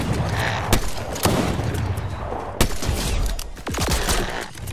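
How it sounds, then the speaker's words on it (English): Gunfire in the video game Fortnite, several sharp, loud shots cracking at irregular intervals over a dense, noisy battle background. "Bro, I missed all my shots."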